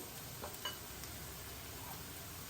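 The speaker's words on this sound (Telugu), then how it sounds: "అలా నూనెలో వేగితే బాగుంటుంది అనమాట మంచి ఉల్లిపాయలు కూడా వేగిపోయాయి కదా" Onions fry in hot oil in a pan, a soft, steady sizzle with faint stirring taps, quiet and continuous with no talking.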